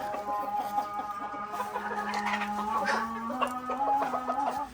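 Caged hens cluck steadily and close by, a busy overlapping chorus of short calls with a rising, drawn-out squawk near the end, with no talk over it.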